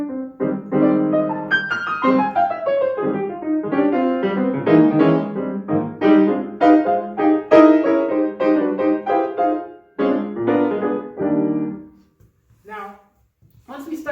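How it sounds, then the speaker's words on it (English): Bebop-style jazz played as a solo melodic line: quick, busy runs of pitched notes with varied phrasing, loud and close, tapering into sparse scattered notes near the end. "what you might have heard in bebop would sound something like this."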